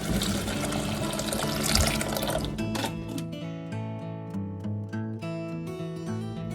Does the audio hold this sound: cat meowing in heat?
no